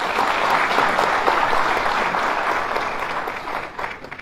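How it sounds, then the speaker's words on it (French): Sustained audience applause at a conference for the CEO of IGFC invited onto the stage, a dense wash of many hands clapping steadily near and loud, tapering slightly at the end. "On applaudit M. Henny Selem Sombel."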